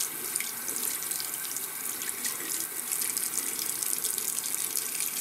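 Steady tap water runs without pause over a makeup brush being rinsed clean at a sink, a bright continuous hiss and splash close by with no voices.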